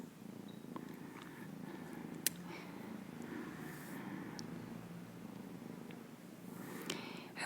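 A kitten purrs softly and continuously at close range during a gentle massage, with faint rustles and small touches over the quiet, steady rumble.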